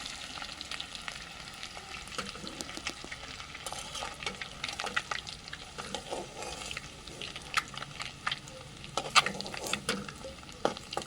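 Boiled eggs fry in oil with chili powder and salt, crackling and spitting in irregular bursts over a continuous sizzle, with occasional stirring clinks close by.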